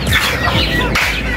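Chickens clucking in a domestic coop where eggs are kept: a brief, loud burst of close clucking and fowl calls, heard on their own without talking.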